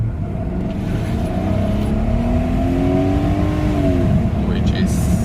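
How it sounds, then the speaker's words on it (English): A Mercedes W210 E420 drops a gear on kickdown and its engine revs up in a steady, rising roar that holds for several seconds from inside the cabin, then eases off. "I'm gonna hit the kick down"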